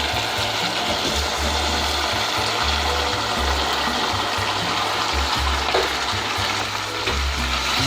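Macaroni being mixed with capsicum in a hot pan for seven-spice chicken macaroni, giving a steady, dense frying sizzle with faint stirring scrapes and low rumbling throughout, no voices.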